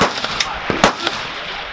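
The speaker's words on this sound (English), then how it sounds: "One ammo, full auto." Bursts of automatic fire from a CZ BREN 2 assault rifle on full auto on an outdoor range, sharp cracks in quick uneven succession, loud and close, with no talk.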